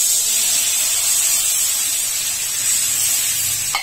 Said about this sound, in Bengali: একটু নাড়াচাড়া করে এখন গরম জল দিয়ে দেওয়া হবে।